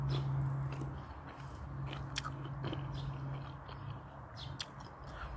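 Close-up biting and crunching of cucumber, eaten alongside European-style pork in a Russian mukbang at a dacha, with repeated wet chewing and sharp crisp bites over a low steady background hum and no talk.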